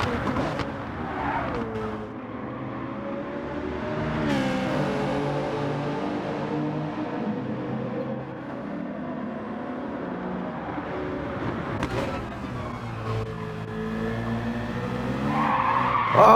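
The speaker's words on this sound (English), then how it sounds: "Vex just lights up the rear tyre slightly, which gave Mawson the opportunity he needed" Race car at Bathurst spinning its rear tyre, a drawn-out tyre squeal and skid layered over revving engine noise, loud and close, with the engine note rising and falling throughout.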